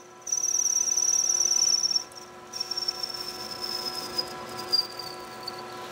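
A machine cutting 316 stainless steel and rolling up chips gives a loud, sustained high-pitched whine for about two seconds. A quieter, fainter tone then continues under scattered clicks, with no talk.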